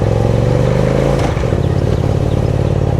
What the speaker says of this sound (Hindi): इसका आप साउंड सुनोगे तो बहुत ही ज़्यादा ब्यूटीफुल साउंड है इस बाइक का